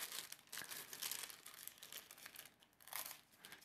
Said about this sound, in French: Je vais couper le surplus.